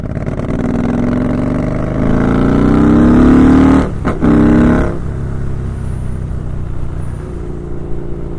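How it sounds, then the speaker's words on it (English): A KTM Super Duke 1290 R with Rotwiler Performance Stage 3 and Bren Tuning revs up loud and close, its tone climbing, then it drops briefly and settles to a lower, steady engine note. "You crack it open in any gear and the bike just goes."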